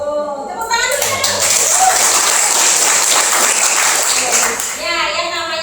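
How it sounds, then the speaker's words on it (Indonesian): Audience clapping at a school counseling session on resilience, a loud burst of many hands that swells in, holds steady for several seconds, then fades as a voice returns. "Tepuk tangan dulu ya."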